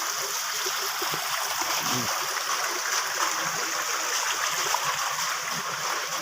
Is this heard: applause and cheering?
no